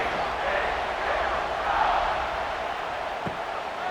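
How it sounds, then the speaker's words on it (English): A simulated stadium crowd in the EA College Football 26 video game roars steadily at a Baylor at TCU kickoff, a dense and even wash of cheering that holds at a constant level from start to finish. "They're set to kick it off, and this crowd now ready to get behind them."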